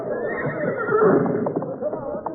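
A horse whinnies in a drawn-out neigh at close range on an old radio western, with a voice talking over it.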